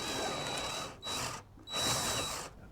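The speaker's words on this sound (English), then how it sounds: "the drill is not centered directly over the wood, it's trying to be bounced up" A power drill whines in two long runs with a short pause between, boring at an angle through a camper shell into the wood beneath, the pitch wavering as the bit bounces.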